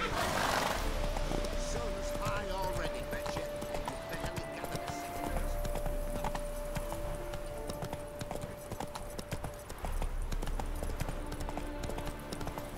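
Roach, a horse in The Witcher 3 video game, gallops with a steady, rhythmic clip-clop of hooves. Brief neighs and game ambience sit behind the hoofbeats, and a voice talks over them.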